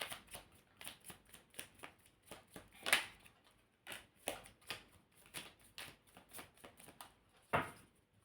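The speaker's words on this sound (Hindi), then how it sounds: "My last shuffle." Tarot cards are shuffled by hand in a quiet room, a run of soft, rhythmic riffling bursts with a few sharper snaps.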